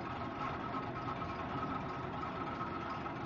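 A 1993 Ford with a 5-liter V8 idles after a cold start, a steady, even low engine rumble that holds unbroken throughout with no voices.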